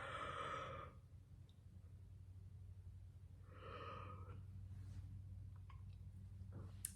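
A long, breathy human yawn, with a drawn-out exhale near the start and another around the middle over a low steady hum.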